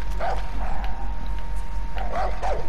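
Dogs in the Far Cry 5 video game let out a few short yelps and barks, in two bursts at the start and near the end, over a low steady background hum of gameplay.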